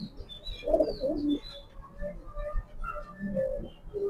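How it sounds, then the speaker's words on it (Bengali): A male and female pigeon pair, running grizzle birds kept in a loft, give soft low cooing phrases close by, with a few faint chirps from other birds in the background. "আর এটা হলো মাদি কবুতর।"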